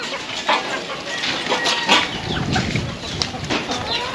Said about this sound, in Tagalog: Alaga natin, mga native na manok oh.